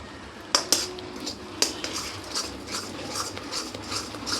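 A spoon stirs yogurt chutney in a pan over low to medium heat: a few sharp metallic clinks at first, then soft repeated scraping strokes, close and fairly quiet.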